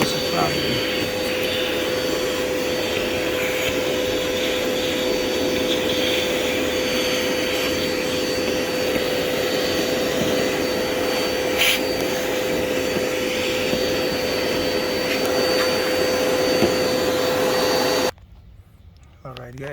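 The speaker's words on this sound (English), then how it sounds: "don't forget to vacuum, right?" Vacuum cleaner running during a fuel pump and regulator replacement on a BMW E90/E92. A steady, loud broadband drone holds for about eighteen seconds, then cuts off abruptly.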